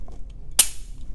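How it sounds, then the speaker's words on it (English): A Glock 43 magazine seated into a Mossberg MC1sc pistol: a single sharp, close metallic click against a quiet background, with no talking. "So the mag from a Glock 43 into the Mossberg."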